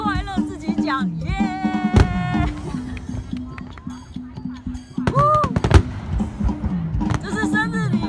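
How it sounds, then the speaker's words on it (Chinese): Fireworks display at the Sukhothai Loy Krathong lantern festival: repeated sharp bangs and crackling bursts, some loud and near, mixed with excited talking and a whistling rise from the crowd. "40分钟的烟火"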